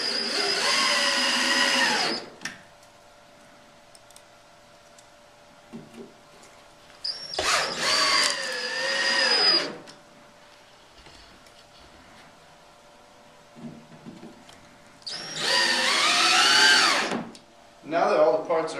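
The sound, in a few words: power drill driving screws into wall bed bunkie boards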